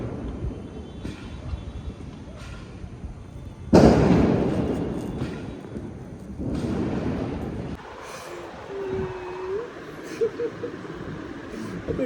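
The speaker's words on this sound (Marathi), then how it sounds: "खूप फटाके फुटत आहेत" Firecrackers bursting in a sharp volley at dawn during Diwali, with repeated pops and crackles echoing nearby and farther off, over a rumbling background.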